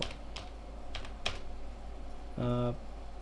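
A few scattered keystrokes tapped on a computer keyboard while entering a command in AutoCAD, followed by a short tonal beep, in a quiet room with no talking.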